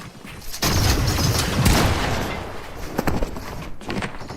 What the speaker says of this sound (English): They're sending some shots at this player.